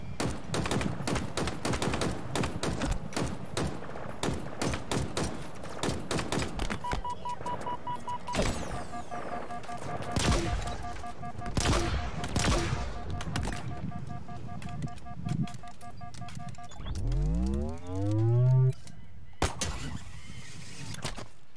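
Weapon fire in the shooter Halo Infinite, with rapid bursts of gunshots and explosive impacts over game noise, followed by sweeping electronic tones and a rising whine near the end.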